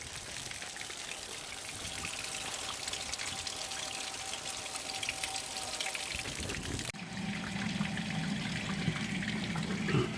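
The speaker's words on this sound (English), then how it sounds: "All right, so I got my water going." Water runs steadily onto the cowl of a Jeep XJ during a windshield cowl leak test, a continuous splashing hiss with a slight shift in tone partway through, close to the microphone and with no talking.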